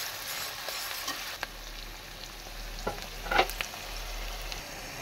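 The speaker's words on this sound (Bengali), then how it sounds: "এটা আমি এখন তেলের মধ্যেতে দিয়ে দেব। এটা আমি একটু ফ্রাই করে নেব।" Onions soften in hot oil for a posto chicken dish, a quiet, even sizzle broken by a few light stirring clicks, heard close with no voices.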